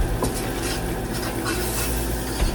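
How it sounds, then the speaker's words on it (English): Flour stirred into melted butter in a pan to make a roux for chicken pot pie: a close, continuous sizzle with frequent scraping strokes and faint utensil clinks against the pan. "so I'm just going to dump my flour in"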